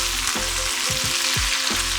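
Garlic fries crisp in very hot oil, a loud, steady sizzle with occasional pops and low knocks close by, with no talk.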